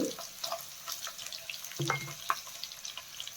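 Onion, garlic and ginger added to hot oil in a pan, giving a soft crackling sizzle with a few clinks and scrapes, close and fairly quiet, with no talking.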